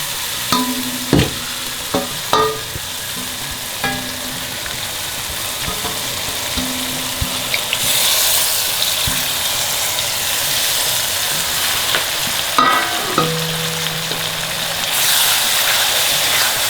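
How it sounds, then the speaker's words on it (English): Spiced masala for stuffed brinjal (bharwa baingan) frying in a pan on a gas stove at medium heat, a steady close sizzle with intermittent scraping and stirring clatter, no talk. "Now put the gas on medium and now fry this masalas for at least 4 to 5 minutes."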